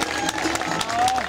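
A festival audience at a banjo music event applauds after an instrumental set, a short burst of clapping mixed with crowd noise and some voices.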